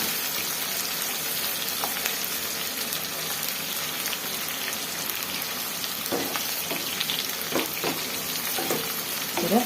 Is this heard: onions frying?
yes